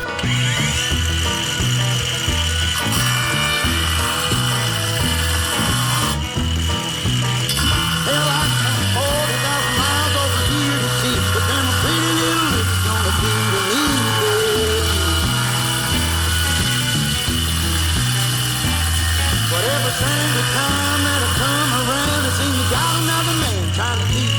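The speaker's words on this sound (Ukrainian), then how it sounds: "давайте перевіримо, як буде працювати по плитці" A cordless Stromo angle grinder runs on its first speed setting against tile, holding a loud whine with pulsing, rhythmic grinding bursts throughout, close and continuous with little or no talk.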